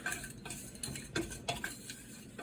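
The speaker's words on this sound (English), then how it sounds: "now I'm going to start toasting it" Whole green cardamom pods and star anise dry-toasting in a bare pan with no fat, giving soft scattered clicks and light rattles as the spices shift and are stirred, close and fairly quiet with no talking.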